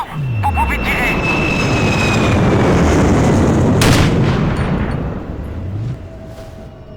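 Low-flying jets roar past in Sniper Ghost Warrior 2 with heavy booming explosions, a loud sustained rumble that swells and fades, masking sniper rifle shots.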